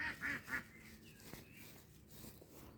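Three nasal quacks from ducks at a moderate distance, then quieter outdoor background with faint rustling.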